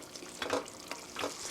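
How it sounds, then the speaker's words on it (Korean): Mapo tofu sauce thickened with starch simmers in a pan while a spoon stirs it gently, giving soft bubbling and a few scraping strokes close by, with no voices. "살살 저어가면서 2분간 끓였습니다."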